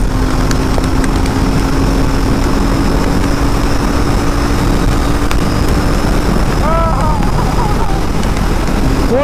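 A BS6 Royal Enfield Interceptor 650 motorcycle pulls through fourth gear on a top-end run. Its steady engine drone sits beneath constant heavy wind rush that never lets up, with a brief chirping sound near the end.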